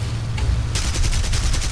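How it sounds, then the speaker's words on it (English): Cannon and machine gun loadouts fire in War Thunder during an air battle with a Soviet bomber and an F4U, heard as a loud, constant rattle of rapid shots that thickens into a dense staccato burst partway through. "I am using stealth shells here for my cannon machine gun loadout"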